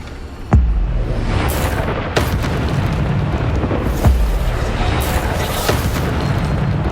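Bombarda explosion spells going off in Hogwarts Legacy combat, several loud booming blasts spaced a second or two apart over continuous roaring battle noise.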